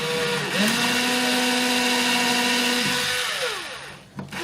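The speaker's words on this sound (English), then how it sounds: "I'm going to start by just drilling straight down in," A power drill bores straight down into the wood of a Harmony guitar during brace and neck reset repair, giving a continuous close whine that drops in pitch and then winds down near the end.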